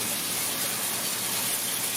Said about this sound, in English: I can either scoop water onto it and wash it off, a hose, and so I'll spray it off